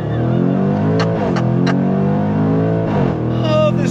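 A 2024 Jaguar F-Pace SVR engine revs hard on throttle inside the cabin, a loud sustained rising roar with harmonic drone that stays steady throughout, with no talking.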